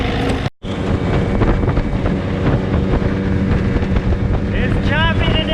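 A 1979 Johnson 15hp outboard runs steadily at full throttle on a boat crossing choppy water, a loud continuous drone mixed with gusty wind buffeting the microphone, with a brief dropout near the start.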